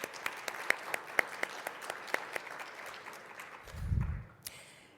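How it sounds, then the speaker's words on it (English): Modest applause from a scientific session audience thanking volunteers, a handful of distinct claps over a soft wash that fades, followed by a low bump of handling noise. "I do want to give those volunteers a round of applause"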